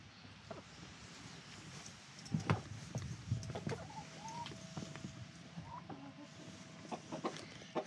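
Chickens cluck softly and intermittently nearby, with scattered scratching and rustling sounds in a quiet outdoor farm setting with goats.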